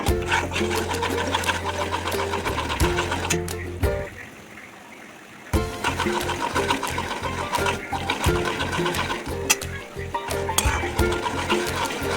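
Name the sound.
roasting and stirring semolina (rava) in a pan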